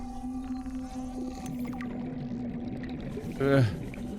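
Whale call in the underwater game Subnautica: Below Zero, a long low moaning tone under faint talk, swelling to a louder rising cry near the end.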